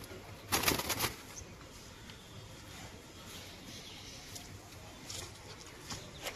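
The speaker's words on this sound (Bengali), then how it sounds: "পায়রা খুব ছটফট করছে" Newly brought-home pigeons, restless and frightened, flutter their wings in a short burst and give low coos against a quiet, steady background hiss.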